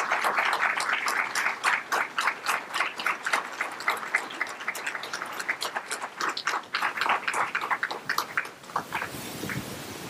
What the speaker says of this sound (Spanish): pedir un aplauso para Lorenzo